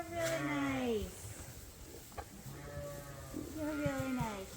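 Sheep bleating on a sheep farm, a few loud, close, quavering bleats separated by short pauses.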